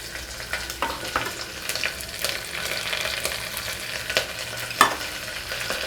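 Onions and spices fry in a pan for bagara rice, a steady sizzle with repeated stirring scrapes and spoon clicks against the pan.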